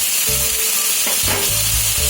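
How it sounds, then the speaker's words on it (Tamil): Chopped tomatoes and onions sauté with garlic in a pan for a paneer cauliflower masala, giving a loud, close, continuous sizzle with a few soft stirring scrapes. "தக்காளி ஃபுல்லாக நல்லா வதக்கி போட்டுக்கோங்க."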